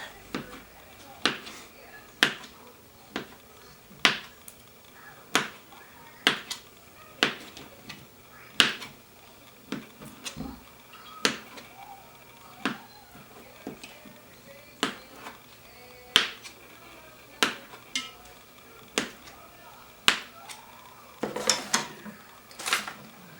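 A knife cuts vegetables in half or into quarters for a vegetarian stew on a wood stove, each sharp chop striking a board about once a second, near and crisp, with a quicker burst of cuts at the end.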